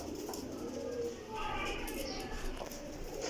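Breeding pigeons coo softly in a loft, a low murmuring call heard faintly beneath someone speaking over it.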